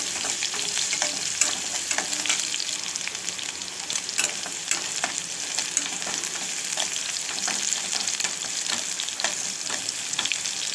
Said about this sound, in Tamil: ஒரு கட்டு கீரைக்கு 2 காஞ்ச மிளகாய், கொஞ்சம் பூண்டு பொரிஞ்சதும் கொஞ்சம் லைட்டாக பொரியணும்